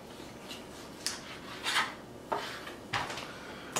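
A knife saws through a pork butt on a cutting board in about six short, separate rasping strokes, close and fairly quiet, with a faint background hum and no voices.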